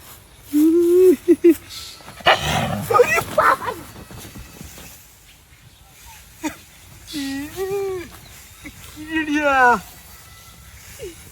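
A dog barks and yips in short bursts near the start and again later, mixed with close human voices talking and laughing in a lively Bangladeshi household scene.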